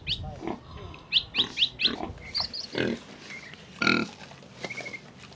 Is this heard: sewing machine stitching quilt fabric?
no